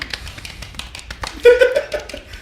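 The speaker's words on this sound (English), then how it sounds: "Tiny claps." A few small, light hand claps for a guest arriving on a talk show, soft and close, scattered across a couple of seconds, followed by a short vocal whoop.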